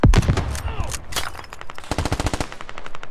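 Gunfire in the tactical shooter game Squad: a heavy shot followed by rapid automatic bursts, ending in a fast, evenly spaced string of loud, close rounds.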